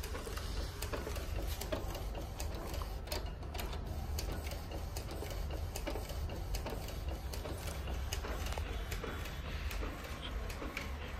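A modified Epson DTF printer feeding and printing onto a roll, giving a loud, steady mechanical whir with a constant ticking chatter that runs unbroken throughout, with no talking.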